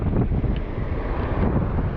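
Rough sea waves break and wind buffets the microphone on a coast while bass fishing, a loud, continuous rumbling roar with irregular surging gusts.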